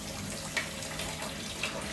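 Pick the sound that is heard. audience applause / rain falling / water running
water running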